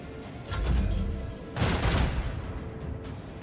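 Starship weapon salvo in Warhammer 40K: Rogue Trader, two long rumbling volleys of booming fire, each lasting about a second, the second heavier, fading into a low roar.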